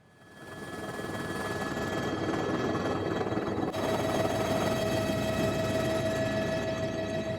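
A helicopter flies over a landslide site in Kampung Elarek, Jayawijaya, Papua Pegunungan, its loud, steady engine drone and rotor noise rising quickly, then holding throughout with no voices.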